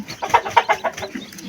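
A hen with ten newly hatched chicks, a run of close, fairly loud rhythmic clucks and soft murmuring calls with no people talking.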